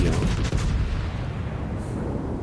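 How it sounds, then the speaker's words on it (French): Kaiser battleship guns firing HE shells during a World of Warships naval battle, a loud booming salvo that rumbles and fades into a sustained low roar. "Kaiser qui tire à la HE, pourquoi pas."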